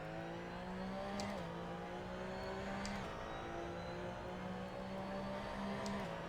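Race cars in Assetto Corsa online racing, a steady droning engine note with shifting pitch as gears change and revs rise and fall, with other cars faintly audible nearby, no voices.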